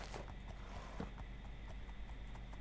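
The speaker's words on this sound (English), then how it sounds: "There's more horses." Hooves from horses in the video game Minecraft near a dark oak forest give soft, quick clip-clop steps, faint beneath a constant hiss.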